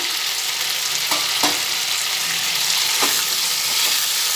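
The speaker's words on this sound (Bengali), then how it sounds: "পটলটা দেওয়ার পরে পটলটা ভালোভাবে নাড়াচাড়া করে নিচ্ছি।" Pointed gourd (patol) sizzles and fries steadily in a pan, with a few soft scraping knocks as the pieces are stirred, close and loud throughout with no talking.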